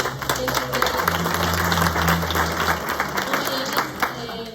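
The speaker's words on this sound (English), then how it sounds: "Valentina, let's give her a round of applause." Steady applause from a crowd at a finance conference in the USA fills the room, dense and sustained, with a low hum beneath and a few voices mixed in as it tapers near the end.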